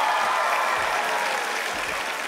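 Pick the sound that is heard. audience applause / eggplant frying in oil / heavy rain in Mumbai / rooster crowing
audience applause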